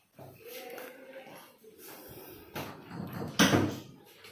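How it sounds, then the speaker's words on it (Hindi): A door in an old Kokani heritage home in Visapur is pushed open, with creaking, scraping and a heavier knock or thud toward the end. Faint voices sound behind it. "दरवाज़ा खोलो"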